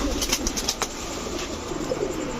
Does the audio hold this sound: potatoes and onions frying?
no